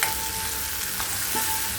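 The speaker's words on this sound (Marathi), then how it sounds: "आता मी कांद्याची, काजूची याची पेस्ट टाकते, खसखस, तीळ परतून घेते." Onion-cashew paste with poppy seeds and sesame fries in a pan, a steady close sizzle with soft crackles throughout.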